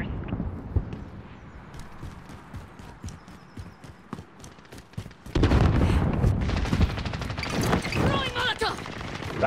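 Rapid gunfire crackles in Call of Duty: Modern Warfare, steady bursts at first and then a louder, denser barrage, with shouted voices mixed in.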